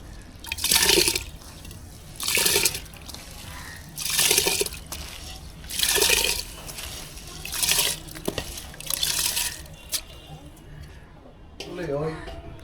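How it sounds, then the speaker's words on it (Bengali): Water sloshes and splashes in about seven regular bursts as rice is added to hot water in a clay pot, each a second or so long, close by, with quieter gaps between them. "চাল দিয়ে দিচ্ছি পানি গরম হয়ে গেছে"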